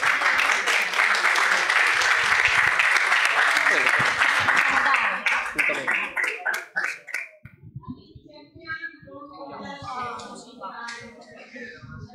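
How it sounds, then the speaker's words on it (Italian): Audience applause at an Italian comics festival stage in 2021, a dense loud burst of clapping that thins out after about five seconds into scattered claps, followed by a quieter stretch with a voice talking over the room. "bel applauso"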